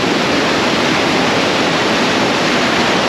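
Side stream swollen by heavy rain rushing down in the New Zealand backcountry, a loud steady roar of water close by with no voices.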